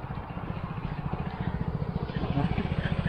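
A motorbike rolling slowly through a wooded forest campsite at Hollands Wood near Brockenhurst, its engine putting with a steady low rhythmic throb that grows slightly louder as it goes.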